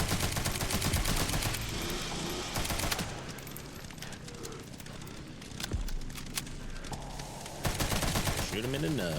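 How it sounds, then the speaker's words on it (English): Sustained machine gun fire in Resident Evil Requiem rattles in long, dense, loud bursts, broken by short pauses, with other game noises layered in. "I told you guys how much I hate the machine guns"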